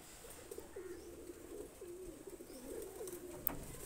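Two baby Alip-set pigeons coo softly in a faint, wavering low murmur, with light chirps and a brief click near the end.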